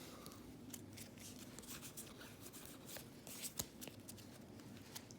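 Pokémon card packs torn open and cards handled, Evolutions packs among them: steady soft rustling and crinkling of foil and card stock up close, with a few sharper flicks and snaps, quiet and continuous.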